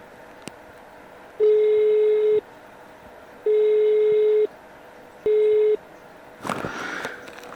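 An unanswered phone call: a steady electronic ringback tone sounds in three long beeps separated by pauses, followed by a brief burst of rustling noise.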